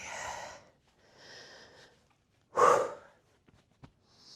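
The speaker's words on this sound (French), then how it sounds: "Le dernier exercice, c'est la respiration là-haut." Breathing exercise during an adapted physical activity session after bariatric surgery: a few deep, audible breaths alternate with a sharp, louder inhale or gasp midway, followed by faint short puffs, all close and quiet with no speech.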